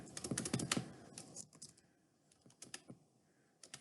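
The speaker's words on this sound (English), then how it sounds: "Let me type." Quick, light keystrokes clack on a computer keyboard, first in a dense burst and then in sparser taps, close but quiet, with no voices.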